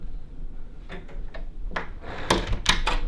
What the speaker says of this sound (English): closed the door, but I'm still in the room